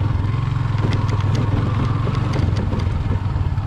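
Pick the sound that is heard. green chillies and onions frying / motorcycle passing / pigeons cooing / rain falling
motorcycle passing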